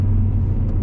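A small Suzuki car nearby gives a brief, low rumbling engine and exhaust drone, steady and fairly loud for under a second.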